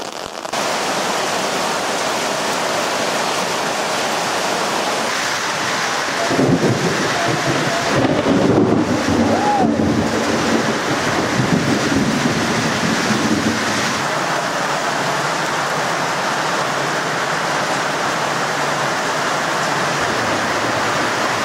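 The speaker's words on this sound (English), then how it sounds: "now the onset of rain" Steady rain falls outdoors on a farm, a dense, continuous hiss that stays loud and unbroken throughout, with a brief swell of heavier rumbling partway through.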